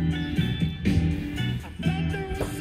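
Music plays over Bluetooth from the stereo inside a Montana 3121RL fifth-wheel RV, a steady tuneful mix at moderate volume that fills the room, with no talk over it.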